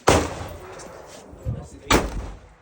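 Two sharp gunshot reports at an outdoor shooting range, loud and close, separated by about two seconds, with a softer thump between them.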